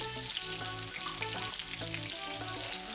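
Hilsa fish pieces fry in hot oil, giving a steady bright sizzling hiss under soft background music, close and moderately quiet, with no talking.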